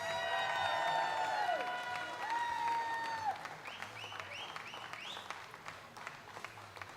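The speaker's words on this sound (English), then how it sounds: "How about a round of applause for our MC today, Jay Flats?" A crowd at a darts event applauds and cheers with rising, whooping voices over a bed of clapping. It starts loud and eases off as scattered shouts continue.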